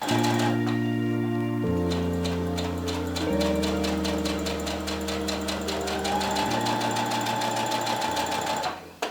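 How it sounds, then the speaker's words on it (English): Sewing machine running a straight stitch through dress fabric, a close, rapid mechanical clatter with steady rhythmic needle ticks and a low humming motor tone, continuous for several seconds, with no talking. "now we're just gonna sew this part up with probably just a straight stitch to try it on"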